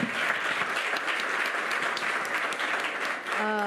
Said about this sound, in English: Can you please just give them a big round of applause one more time?